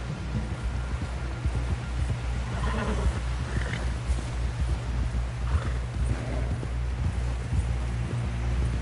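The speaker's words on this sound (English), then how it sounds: "Someone help John down off this horse." Horse hooves clip-clop in a steady rhythmic beat over a low rumbling background, with a faint whinny rising midway.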